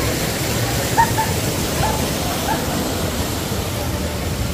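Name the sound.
waterfall rushing water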